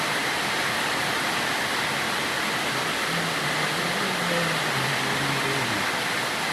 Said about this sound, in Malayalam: നല്ല പൊളിച്ച മഴ.